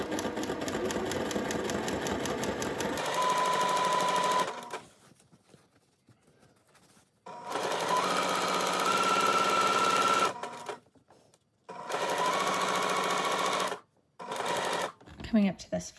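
A sewing machine whirs in three steady bursts with quiet gaps between them, stitching slowly around a curved edge on a sundress. Speech is faint or absent during the runs.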